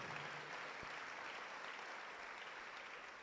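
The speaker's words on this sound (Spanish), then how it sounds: "Dale un aplauso a esa esperanza que está con nosotros." A church congregation claps in a steady, fairly quiet wash of applause that holds evenly from start to finish, with no voices rising above it.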